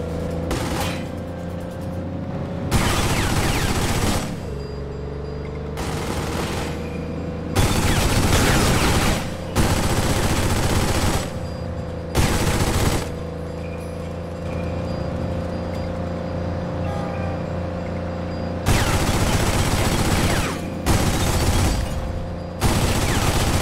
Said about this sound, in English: Monk ain't fucking around with that Tommy gun